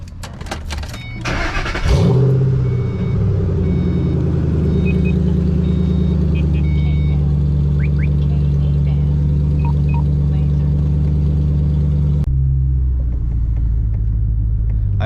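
A Ford Mustang starts up on a test drive, a loud deep engine rumble holding steady for most of the time before dropping off near the end.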